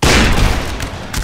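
An infantry line fires a musket volley in a battle video game: a loud, close burst of overlapping gunshots that rolls out and decays, with another shot near the end.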